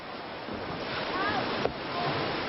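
Choppy sea surf washes steadily onto a Spanish beach on the Costa del Sol under a constant roar of wind, with a brief sharp knock partway through.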